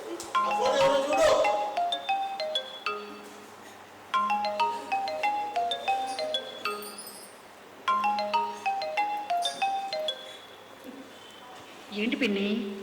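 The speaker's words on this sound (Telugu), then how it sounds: "ఆ ఫోన్ ఎవరో చూడు." A telephone rings indoors in a drama scene, a repeating electronic ringtone melody in bursts separated by short pauses, with people talking around it.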